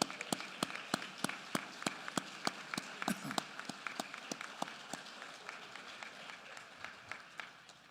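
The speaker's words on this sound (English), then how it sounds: "Let's give them a big rousing round of applause." Applause from an audience at a public education address, heard as a long run of sharp, evenly spaced claps that stays steady for the whole stretch and fades slightly toward the end.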